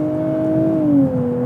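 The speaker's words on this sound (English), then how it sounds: "Sport Plus mode definitely holds the revs longer than Sport mode did" A 2024 Nissan Z Nismo on a race track in Sport Plus mode, its engine droning steadily at held revs with a smooth tone that shifts pitch briefly, loud and close with no talk.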